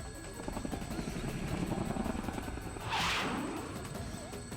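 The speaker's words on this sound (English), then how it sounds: "There's a deafening roar and the helicopter shakes madly, but recovers." A helicopter roars steadily in Persona 4 Arena Ultimax, its dense rotor drone filling the scene before a sudden hissing blast swells and fades as the craft shakes.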